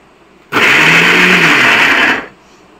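A mixer grinder whirs loudly as it spins pigeon feed mixed with water, one steady burst of roughly two seconds that starts and stops abruptly, with no voices over it.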